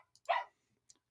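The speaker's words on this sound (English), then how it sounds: "Excuse the dog." A single short dog bark sounds close by in an otherwise quiet indoor setting, with a faint tick afterward.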